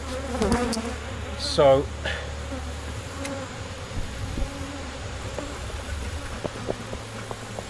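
Bees buzzing in an open hive during small hive beetle cleanup, a close drone with a loud passing flyby near the start and steady faint humming after, while a voice briefly speaks.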